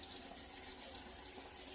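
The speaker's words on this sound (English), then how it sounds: "Okay, the next step is adding lukewarm water." Lukewarm water runs in a steady, even rush as a pot is filled for making apple butter, quiet and continuous with no voices.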